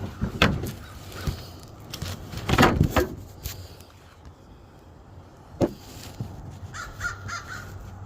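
A crow caws a few times at irregular intervals, with sharp knocks and clatter in between, during summer seed planting.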